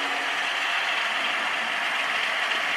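A Bachmann model train running around a dirty upper loop of track, giving a steady close whirring and grinding gear hum with a continuous ratchet-like texture and no pauses.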